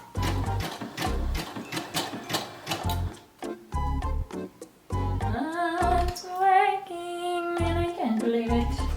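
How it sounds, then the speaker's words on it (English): A sewing machine runs a zigzag stitch over fishing line on a silk cosplay costume piece, its needle chattering in quick bursts that stop and restart, then a longer steadier run with a rising whine. "The key was making a little channel for the fishing line to sit in and then doing a zigzag stitch"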